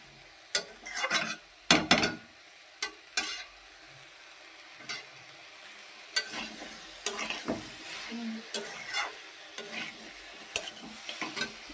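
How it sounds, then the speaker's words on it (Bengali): Vegetables frying in a pan as water is poured in, with short bursts of sizzling, scraping and stirring clatter that come and go, then a softer steady crackle underneath. "তারপরে জল দেবো সবজিতে। ভালো করে সবজিতে জল দেবো।"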